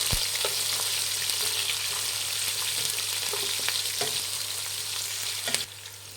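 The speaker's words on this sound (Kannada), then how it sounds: "ಇದು ಅಷ್ಟೇ ಗೋಲ್ಡನ್ ಬ್ರೌನ್ ಬರೋವರೆಗೂ ಫ್ರೈ ಮಾಡಿ" Chopped onion and green chillies fry in a pan toward golden brown, giving a loud, continuous hiss with occasional light stirring clicks, close and uninterrupted.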